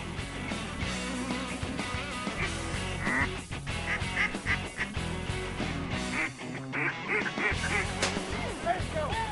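Mallard ducks quack repeatedly on a duck hunt in Tallahatchie County, Mississippi. The calls sit inside a dense, loud, steady backdrop of other sound throughout.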